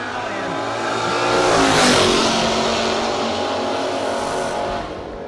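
A Mustang and an Oldsmobile launch in a no-box drag race, engines screaming and swelling to a loud peak as the cars pass close by before fading, with an announcer's voice faintly present.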